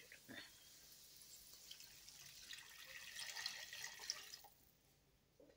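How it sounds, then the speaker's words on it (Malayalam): Water is poured into a pan of wheat rava upma seasoned with turmeric, a faint, quiet stream that swells for a couple of seconds before trailing off. "വെള്ളം ഒഴിച്ചു കൊടുക്കുക."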